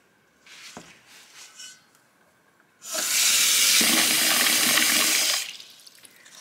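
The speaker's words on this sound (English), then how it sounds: "It's nice having running water inside the garage at my filling station." Running water pours from a tap inside a garage at a filling station onto a boneless pike fillet set to soak, a steady loud rushing hiss for a few seconds after some quieter handling noise.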